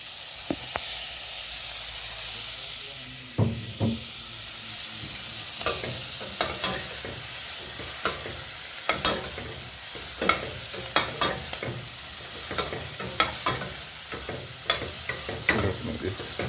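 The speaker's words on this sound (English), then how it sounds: "so just melt the butter for a bit. Then add our seasoning." Seasoning sautéing in melted butter in a pan for jerk chicken, a continuous close sizzle and hiss with frequent sharp scraping taps of a utensil stirring, no talking.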